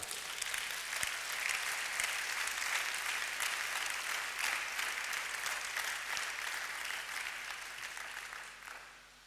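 A church congregation at a solemn convocation applauds to acclaim God, with dense, sustained clapping from a large crowd that fades out at the end.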